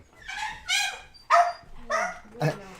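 A visiting dog barks and yips in four or five sharp, close, loud bursts with short gaps between them, heard on its own without talking.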